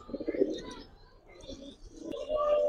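A pair of army pigeons coos close by in short soft bursts, with a person talking over them.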